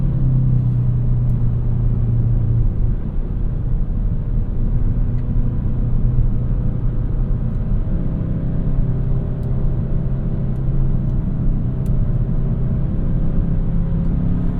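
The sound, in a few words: 2025 Kia K5 GT car accelerating and upshifting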